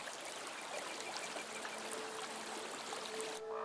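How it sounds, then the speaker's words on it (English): Hot spring water, emerging at around 50 degrees Celsius, cascades over a series of rock pools toward the sea in a steady, soft rushing trickle that stays even and quiet throughout, ending with a brief dip near the end. "It cascades along a series of rock pools before entering the sea."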